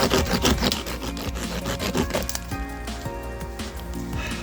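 A hand saw cuts through a piece of wood outdoors, with quick rhythmic rasping strokes up close that give way to a few slower scraping pulls at the end.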